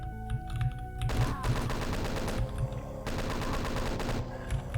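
Chaingunners in Doom 2 firing rapid bursts inside a meat locker room, loud dense rattling gunfire in two long stretches with a brief lull between, over a low music bed and no talk.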